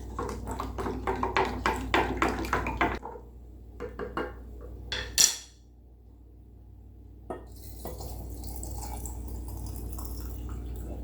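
Spoonfuls of Himalayan salt and sugar stirred into water in a bowl, with a run of close clinking and scraping strokes, a brief sharp clatter, then quieter handling.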